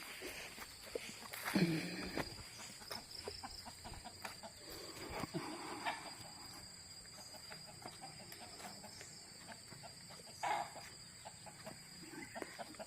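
Free-range chickens and a rooster cluck faintly in the open air in an Indonesian village, with a few scattered calls and light footsteps over a quiet outdoor background; no talking.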